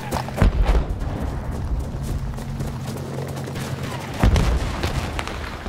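Machine gun fire rattles in the Battlefield 3 mission Rock and a Hard Place, with dense bursts, booming impacts and rumbling battle noise, loud and close, strongest at the start and again near the end.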